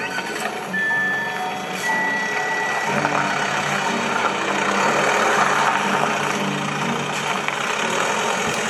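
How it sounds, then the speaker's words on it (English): A reversing vehicle's backup alarm beeps in a steady repeating rhythm over a low idling engine, fairly close and clear, with little talk. "She's backing up so slow."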